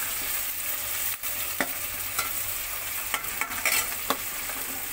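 Beef frying in a pan with ginger garlic paste for a karahi, a soft steady sizzle broken by scraping clicks and knocks of a spoon stirring against the pan, close and without speech.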